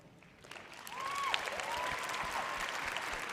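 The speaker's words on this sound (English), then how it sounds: "let's give a big round of applause to our selection committee panel" Applause swells from a pageant audience at the Miss Teen USA 2019 show in the Grand Sierra Resort, rising from a soft start into a full, even wash of clapping, with a couple of tonal swooshes over it.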